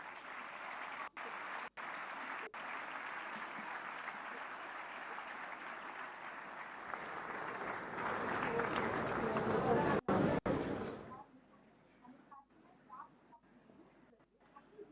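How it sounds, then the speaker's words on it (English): A crowd applauding steadily for about eleven seconds at a live Chhattisgarh budget session event, building slightly before cutting off, followed by quieter room murmur. "May I please request you all to let's welcome him with a round of applause"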